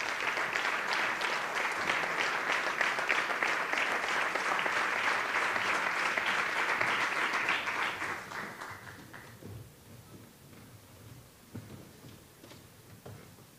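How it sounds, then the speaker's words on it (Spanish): Sustained audience applause at an awards gala, dense and steady for about eight seconds before thinning out into scattered claps and room noise. "Por favor, un fuerte aplauso para ella."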